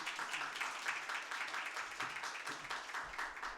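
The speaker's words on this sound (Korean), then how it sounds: "나오실 때 큰 박수로" Faint, distant applause from a chapel audience welcoming a speaker, a steady patter of clapping that carries on without a break.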